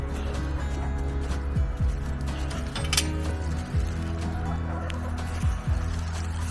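Black chickens, including silkies, cluck softly nearby over a low steady hum, with a few light clinks in between.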